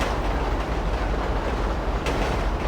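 A train in GTA V rolls along railroad tracks with a dense, continuous rumble and faint clickety-clack of wheels on rails, loud and close throughout, with no voices.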